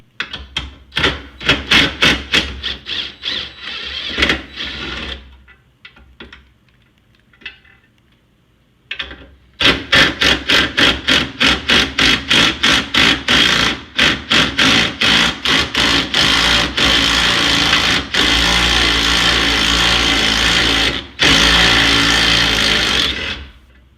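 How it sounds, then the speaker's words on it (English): Half-inch bolts being removed from a Chevy Trailblazer radiator with a ratchet, loud close rapid clicking in long runs, broken by a few pauses and some clanks of metal. "Next thing you're going to want to do is remove these 2 bolts."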